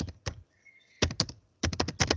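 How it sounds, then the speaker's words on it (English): Fingers typing text on a computer keyboard at a Linux terminal, with a couple of quick keystrokes, a brief pause, then two close, rapid bursts of clicking keys. "I'm typing some text."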